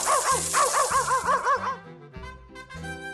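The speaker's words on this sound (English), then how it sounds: "I see a dog." A dog gives a quick run of yipping barks, then several fainter whimpering yelps, all close and clear with no talk.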